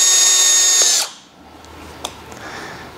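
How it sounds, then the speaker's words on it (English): A hand-held drill running a bit to drill out a bolt hole for a Time-sert thread repair, steady loud whine that stops about a third of the way in, followed by quiet handling noises. "drill out the hole with the specified drill bit"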